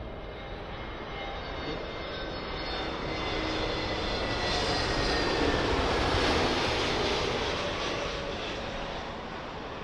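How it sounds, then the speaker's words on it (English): A British Airways Airbus A321neo arriving at London Heathrow on runway 27L gives a loud, continuous jet roar that builds to a peak midway and then holds, heard alone without voices. "British Airways A321 Neo"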